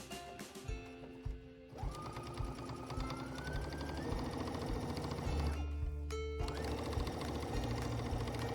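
A sewing machine stitches down quilt binding along a seam guide, its rapid motor whir and needle clatter running steadily and close, with a brief pause near the middle before the stitching resumes.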